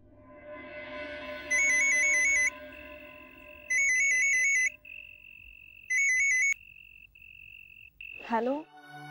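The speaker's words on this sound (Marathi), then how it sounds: "रिंग वाजते." A telephone rings indoors in a Marathi TV drama scene: three evenly spaced bursts of a bright, warbling electronic ringtone, loud and close over a faint backdrop, followed by a short rustle at the end.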